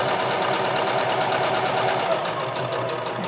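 A domestic sewing machine runs steadily at an even, rapid stitching rate while sewing a lined patch pocket, a close continuous mechanical whir with no pauses and no voices.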